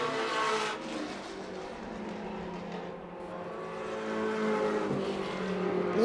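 Race cars roar around an oval during a short-track racing event, engines droning and shifting pitch continuously as the field passes close by, with a brief skid or tire squeal near the end.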